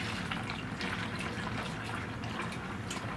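Motor oil pours steadily through a filter into a container during a Ford Excursion V10 oil change, a soft continuous liquid trickle heard close and quiet for a few seconds.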